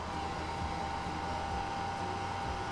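A cheap budget hair dryer runs steadily close by, a continuous loud whirring blow with an even motor hum and no breaks.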